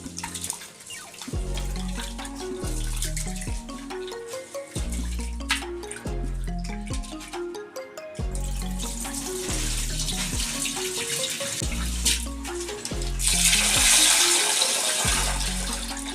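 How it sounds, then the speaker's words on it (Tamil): Raw ponni rice washed in water, with steady running and sloshing water and repeated rhythmic swishes and pours close by, with no talk. "அரிசி இப்படி கழுவிக்கிங்க"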